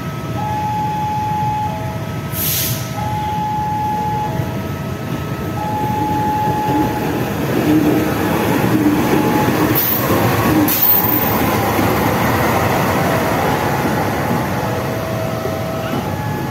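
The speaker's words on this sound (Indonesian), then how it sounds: "Ini persiapan dilansir ke jalur 4 untuk digandengan dengan lokomotif dinas kereta api Sri Tanjung" A CC 206 diesel locomotive rumbles steadily nearby during shunting with a low engine drone, while short tonal beeps and occasional clanks sound over the running engine.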